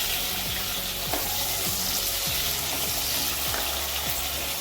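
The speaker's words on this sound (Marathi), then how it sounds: "आता मी कांदा टाकते," Onion frying in a hot pan for chicken biryani, with a dense, steady sizzle and occasional stirring scrapes, close and loud, with no talking.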